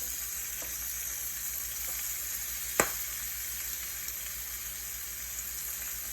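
Chicken livers fry in cooking oil in a pan, giving a steady, close crackling sizzle throughout, with one sharp tap partway through and no talking.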